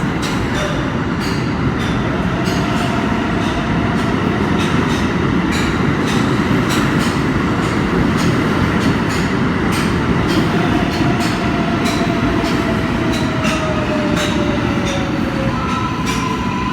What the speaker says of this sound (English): And here's a train coming in from Queens.